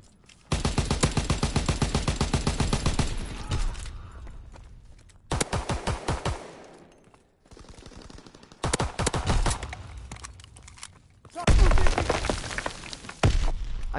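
Automatic weapon fire in the World War II shooter Call of Duty WW2, loud rapid bursts of shots separated by short pauses, each burst a fast rattling string of cracks.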